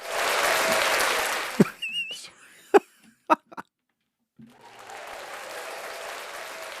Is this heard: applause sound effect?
yes